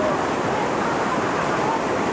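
A waterfall in Dalat, running low in the dry season, gives a steady broadband rush of falling water that fills the whole moment, close and even with no talking over it.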